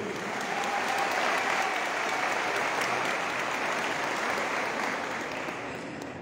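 Sustained applause from the public at a municipal swearing-in ceremony in Curuguá as the council members stand, a dense, loud crowd clapping throughout that tapers slightly near the end.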